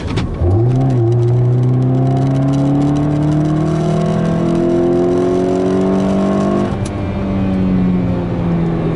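A Nissan Sentra with a 2.5-liter engine accelerates hard, its engine note climbing steadily through a long rev sweep, then dropping as it shifts and pulling again, loud and close with no talk.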